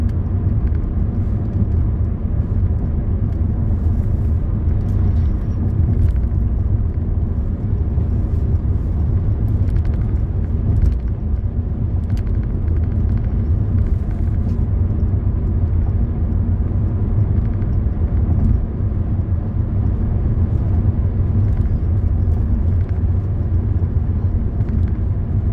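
A car drives along Connecticut Route 101 (Hartford Pike) on a ride from Qvcc to Norwich, heard from inside as a steady, continuous low road and engine rumble with no talking.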